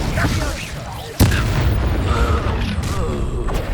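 Incendio fire spell cast in combat in the video game Hogwarts Legacy, a sharp booming burst that cuts in sharply and then holds as a dense roar over continuous game noise and speech.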